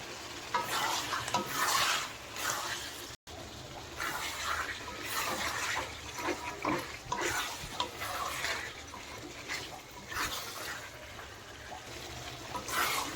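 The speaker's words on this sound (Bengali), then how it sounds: "এইভাবে চিকেনটা ভালোভাবে কষিয়ে নেব।" Chicken pieces with spices, whole onions and garlic sizzle in a pan for curry while a spoon stirs and scrapes them. The frying is close and continuous, with rhythmic stirring strokes throughout and no talking.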